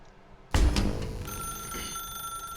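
In The Stanley Parable video game, a telephone starts ringing abruptly with a loud electronic bell tone that rings on steadily and close, with no voices over it.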